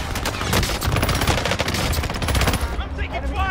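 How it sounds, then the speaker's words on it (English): Rapid automatic gunfire from above rattles loudly in a Warzone match on the Fortune's Keep map, dense bursts that cut off abruptly near the end. "they're shooting at me from above"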